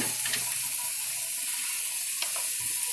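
Eggs and breakfast sausage frying in a hot pan, a steady bright sizzle running throughout, close and loud, with a few faint clicks and scrapes of a spatula and no talking.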